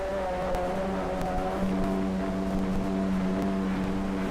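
Racing jump boats blast past at full throttle at Cypress Gardens, engines roaring in a steady drone whose pitch climbs and holds, with wind buffeting the microphone and no voices.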